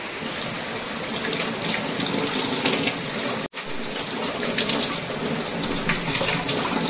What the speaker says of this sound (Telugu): ఇప్పుడు మనం తీసుకున్న 2 అమ్మడి బీరకాయలని కూడా ఇట్లా నీట్గా వాష్ చేశాను